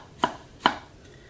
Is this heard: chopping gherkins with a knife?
yes